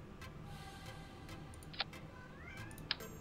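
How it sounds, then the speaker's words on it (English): A cat meows faintly in the background a few times, soft rising calls under a low steady room hum with a couple of sharp clicks. "Oh my god, cat."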